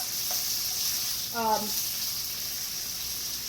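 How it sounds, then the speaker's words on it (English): Meatballs sauté in a pan with a steady, soft background sizzle, while a brief voice rises over it partway through. "I'm going to saute these a little bit and then I'm going to take them out"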